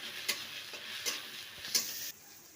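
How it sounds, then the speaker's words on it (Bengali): Chopped tomato with salt frying in a pan while taro leaves are being cooked: a steady soft sizzle broken by three brief scraping stirs, close and alone. "টমেটোটা একটু ভেজে নেবো, একটু গলে গলে যাবে"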